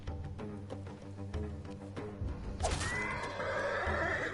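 Horse in a video game neighs with a rising whinny after a run of clip-clop hoofbeats, moderately loud and alone without talk.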